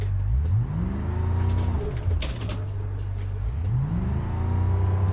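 A Ford Raptor pickup truck in the BeamNG.drive driving game, its throttle stuck open, drones loud and close with the engine note repeatedly climbing through gears and dropping again, a voice faintly underneath.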